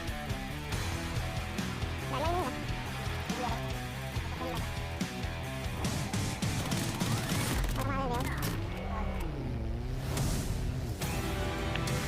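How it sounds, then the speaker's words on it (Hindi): Gunfire in Call of Duty Mobile around a nuclear plant map area, heard as sustained, continuous in-game shooting layered under music and a voice talking throughout. "मुझे फिर से न्यूक्लियर प्लांट में फायरिंग का साउंड आता है।"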